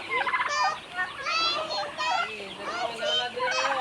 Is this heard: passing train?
no